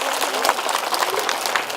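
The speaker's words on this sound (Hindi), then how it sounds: "एक बार जोरदार तालियां हो जाए आप सबके इंतजार के लिए।" Audience applause at a public gathering, dense and steady clapping from a crowd throughout, fairly close and loud with some voices mixed in.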